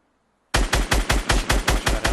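Automatic gunfire in the video game Fortnite rattles out as a loud, close burst of about seven evenly spaced shots after a brief silence.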